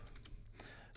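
Keys on a computer keyboard are tapped in a quick, close burst of several light clicks during a short, quiet moment.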